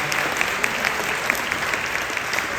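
A seated audience at a commemorative event for President Syngman Rhee's 150th anniversary claps steadily, a dense even applause with scattered crisp individual claps throughout.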